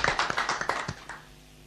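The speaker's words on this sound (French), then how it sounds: "On applaudit." Brief scattered clapping from an audience at a prize-giving ceremony, a dozen or so sharp claps close by that thin out and fade within about a second, leaving quiet room tone.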